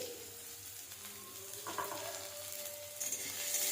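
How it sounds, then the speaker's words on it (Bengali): Chopped onions sizzle steadily in hot oil, a soft continuous hiss with a few faint stirring scrapes. "এবার কুচি রাখা পেঁয়াজ দিয়ে দেবো"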